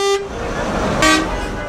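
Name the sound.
car horn honking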